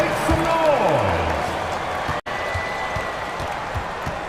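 Crowd roar from the arena in a fourth-quarter esports basketball video game rumbles steadily underneath a broadcast announcer's voice, with a brief dropout midway.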